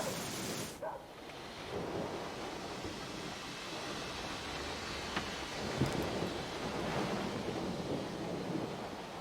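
Thunderstorm with steady rain in the video game Syberia The World Before: a dense wash of rainfall and wind with low rumbling thunder, plus a few sharper cracks, continuous throughout.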